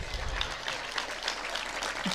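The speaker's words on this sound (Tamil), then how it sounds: "கைத்தட்டல்" An audience applauds at a Tamil public speech, steady dense clapping from a crowd that sounds moderately close and fills the hall without any talking over it.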